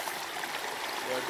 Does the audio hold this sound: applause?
no